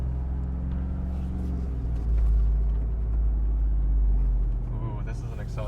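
A 2021 Jeep Wrangler Rubicon 392 V8 accelerating on an off-road course. Its deep engine rumble swells and holds as it pulls, and a voice briefly rises over it near the end.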